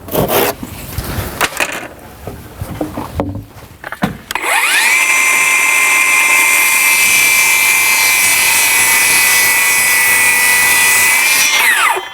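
A battery-powered saw cutting roof rafters for a garden room, first some knocks and handling noise, then a loud, steady high whine of the blade running through the wood for about eight seconds before it winds down.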